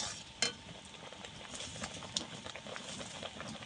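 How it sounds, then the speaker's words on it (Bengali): Raw mango kasundi mixture is stirred and brought to a boil in a pan, with a steady soft bubbling sizzle and brief scraping knocks of the spoon, close and continuous. "এবারে ভালো করে সব কিছু একসঙ্গে মিশিয়ে একটু ফুটিয়ে নেব।"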